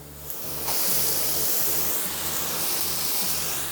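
Chopped Cheongyang, green and red chili peppers sizzle in a pan over a gas flame with onion, a loud steady hiss that swells as they hit the pan, with a faint rhythmic low thudding underneath.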